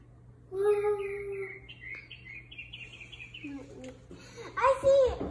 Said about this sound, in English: Who needs to go outside to listen to birds? We have one in our fireplace.